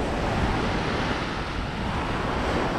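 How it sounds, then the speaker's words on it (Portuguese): Rough sea waves break behind coral rocks along a Salvador, Bahia coastline, a continuous loud roaring wash mixed with wind buffeting the microphone. "Deixando o mar mais agitado atrás ali daquelas pedras ali, que eu creio ser mais parte ali de coral"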